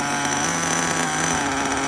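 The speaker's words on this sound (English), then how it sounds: "As you can see, it's still kind of idling forward a little bit." A small high-revving nitro engine in a Tamiya TA02SW RC car idles steadily with a buzzing, slightly uneven drone, close by and continuous throughout.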